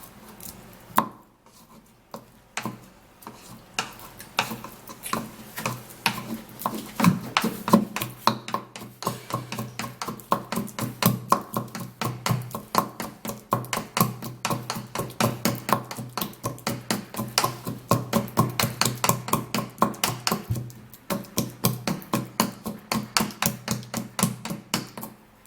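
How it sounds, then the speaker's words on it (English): Ingredients for a homemade anti-ageing face serum are mashed until smooth, making a steady run of rhythmic pounding taps that are close and moderately loud and continue for nearly half a minute. "I'll have to mash it for it to be smooth"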